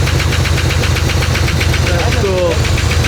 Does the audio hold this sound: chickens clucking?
no